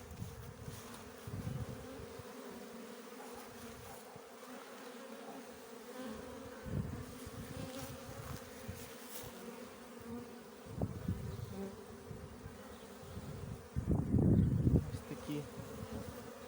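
Many honeybees buzz around their hives close by in a constant hum, with louder bursts as individual bees fly near, then drift off again.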